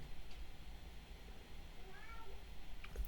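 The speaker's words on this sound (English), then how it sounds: "know if you hear the cat" A house cat meows outdoors, a couple of faint, drawn-out calls rising from a steady low background hum, distant and indistinct.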